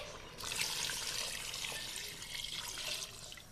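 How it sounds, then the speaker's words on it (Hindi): Water pours steadily from a tap into a pot, a bright rushing splash that starts abruptly and holds for a few seconds. "अब हम इसमें 1 लीटर पानी डाल देंगे"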